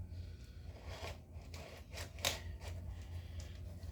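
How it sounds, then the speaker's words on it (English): Knife slicing and scraping through the plastic wrap and cardboard of a boxed video game, a series of short crisp cuts and rasps close by with no talking. "Let me try with knife, it might be easier."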